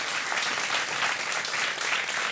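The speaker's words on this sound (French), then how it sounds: "on peut l'applaudir." A live studio audience applauds steadily at a French talk show, dense continuous clapping filling the whole short stretch at close range with no voices over it.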